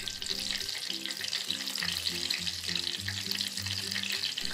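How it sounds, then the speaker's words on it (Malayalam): Cauliflower pieces dipped in batter for bajji frying in hot oil, a steady, moderately quiet bubbling sizzle throughout with no voices. "എന്നിട്ട് നേരത്തെ പറഞ്ഞ പോലെ തന്നെ മാവിൽ മുക്കിയിട്ട് പൊരിക്കുക"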